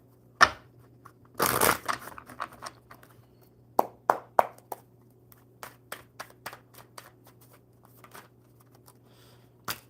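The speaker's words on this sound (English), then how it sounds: "All right, Albert, one more good shuffle." Tarot cards being shuffled: a quick riffle burst, then a series of sharp snaps and taps as cards are handled, close and otherwise quiet.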